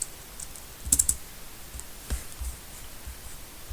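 A few scattered keystrokes on a computer keyboard while entering commands on a machine, faint close clicks in two small clusters against quiet background, with no speech.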